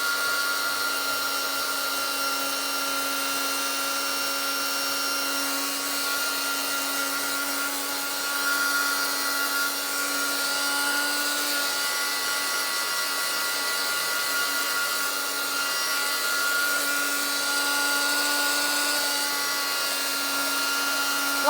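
Handheld heat dryer blowing over the pages of a vintage-style altered book, a steady close whirring drone that holds unbroken throughout with no talk.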